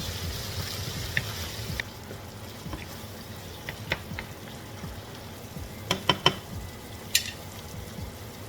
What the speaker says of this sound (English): Make sure you're stirring and getting it browned. This is on medium-high heat.